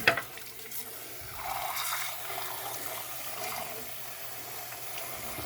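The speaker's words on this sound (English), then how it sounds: "I'm just going to run some water on it." Tap water runs over the filter screen of a Shark vacuum held under a sink faucet, a steady close splashing stream that shifts as the filter is turned in the flow.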